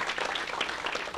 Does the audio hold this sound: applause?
yes